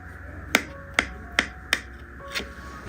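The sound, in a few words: knife cutting vattayappam steamed rice cake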